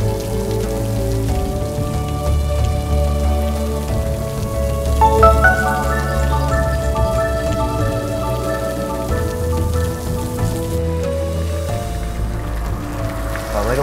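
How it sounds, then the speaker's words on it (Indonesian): Heavy rain falls steadily for the whole stretch as a dense, even wash, with tonal, music-like sounds layered over the downpour. "Iya, ini lagi hujan terus."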